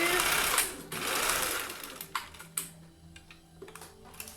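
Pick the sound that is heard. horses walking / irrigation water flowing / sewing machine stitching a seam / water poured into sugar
sewing machine stitching a seam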